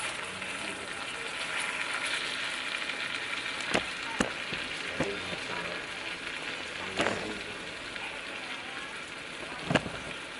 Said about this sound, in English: You have your butter right there, just cooking